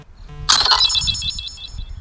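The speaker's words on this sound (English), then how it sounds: "Of course I get a text message while filming." A phone's text message alert chimes out as a short bright tone burst, ringing on over low background noise in a driveway while a garage is being cleaned.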